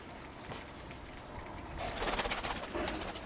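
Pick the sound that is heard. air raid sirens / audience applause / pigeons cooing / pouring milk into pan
pigeons cooing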